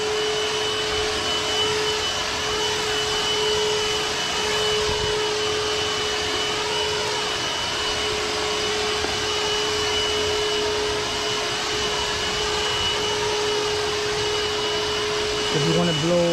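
A Milwaukee M18 cordless wet/dry vacuum runs in blower mode, a steady loud whooshing motor roar with a constant whine, continuous throughout with little change until a brief shift near the end.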